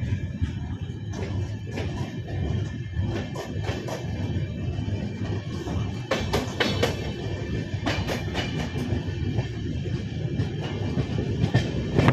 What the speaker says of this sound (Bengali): ট্রেন 2 মিনিট দাঁড়িয়ে ছেড়ে দিল